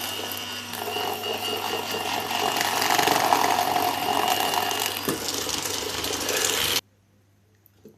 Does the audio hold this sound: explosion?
no